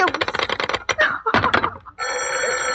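A telephone bell rings loudly in a steady trill, with short bursts of clattering sound before it, in a 1944 radio drama.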